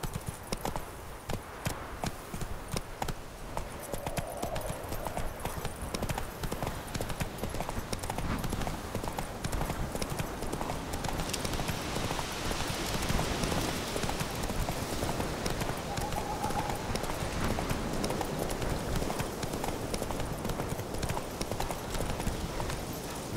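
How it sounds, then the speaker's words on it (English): Hooves of a horse in The Witcher 3 clatter in a fast, continuous galloping rhythm throughout, steady and fairly close, with a voice speaking briefly over it. "Not so fast, Roach."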